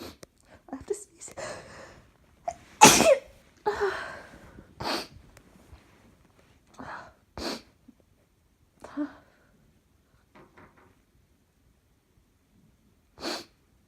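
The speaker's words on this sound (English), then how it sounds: "I have to sneeze." A person sneezing: scattered breathy sniffs and short bursts lead into one sharp, loud sneeze, followed by a few quieter breaths and snorts with pauses of near silence between them.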